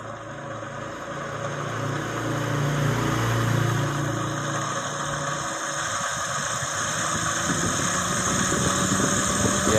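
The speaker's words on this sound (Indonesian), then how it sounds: "Fokus ke blower ya, putaran blower itu baling-baling tuh." A blower's propeller spins up on a homemade SCR rig, a mid-pitched mechanical hum with rattling that grows louder and rougher as its speed climbs over about ten seconds, with no talk.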